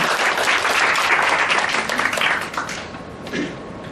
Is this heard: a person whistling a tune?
no